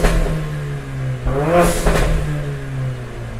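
Mercedes-Benz CLA45 AMG with an Armytrix valvetronic exhaust, valves open, revs loudly in a couple of sharp blips rising over a throaty idle, close and alone.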